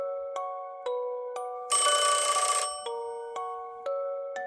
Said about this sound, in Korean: 그러자 바로 어머니에게서 전화가 걸려왔다.